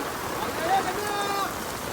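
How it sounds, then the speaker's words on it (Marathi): Heavy rain falling while fishing outdoors, a dense steady hiss of rain on surfaces and water throughout, fairly loud and close. "आता मस्तपैकी पक्का पाऊस आला जोराने बघा."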